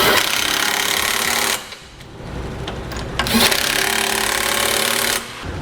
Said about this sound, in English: Now we can tighten these down.